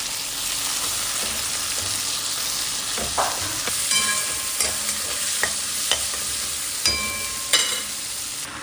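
Potato, pumpkin and yam chunks sauté in hot oil with onion and tomato, a loud continuous sizzle broken by repeated spatula scrapes and knocks against the pan, close up and with no voices.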